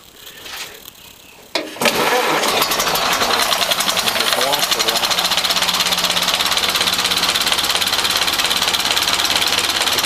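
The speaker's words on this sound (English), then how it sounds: "I just turn the key on." A Model A Ford pickup engine, freshly cleared of a flooding carburetor, cranks briefly and catches, then settles into a loud, steady rhythmic chug close by, with brief talk beforehand.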